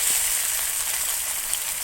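Water being poured into frying masala sets off a loud, steady, close hiss of sizzling that holds evenly through the short moment, with no voices.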